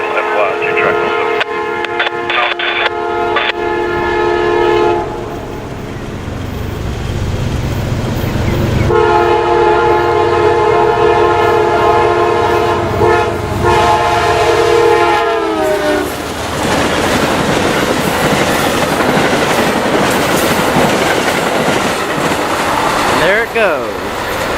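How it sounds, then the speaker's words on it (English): An Amtrak passenger train pulling out of Florence, South Carolina sounds a loud, repeated horn over the rumble and rhythmic clatter of its wheels on the rails, with a radio voice heard in the mix. "got Amtrak 90 heading out of Florence, heading off to New York"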